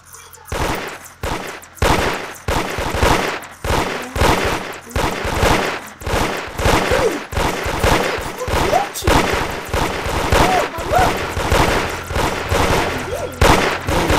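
Towers in the Roblox game Toilet Tower Defense fire loud, rapid bursts of gunfire in repeated volleys through the whole stretch, steady and close, with occasional faint voices underneath.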